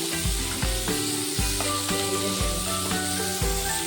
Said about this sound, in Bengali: এবারে দিয়ে দেব পেঁয়াজ, দিয়ে ভালোভাবে ভেজে ফেলে